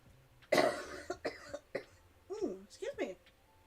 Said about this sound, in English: I don't normally have coughing fits,